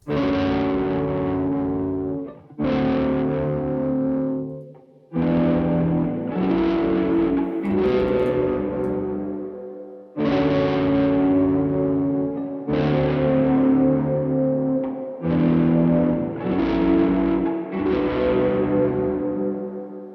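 A heavily distorted, gritty guitar-like tone from a distortion plugin plays in sustained phrases with brief gaps between them, loud and saturated with a fuzzy, processed edge.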